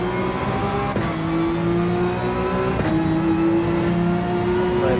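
Race car engine in Gran Turismo 7 at the Maggiore circuit, a loud steady whine climbing through the revs with two brief gear-shift dips, continuous and close with no talk.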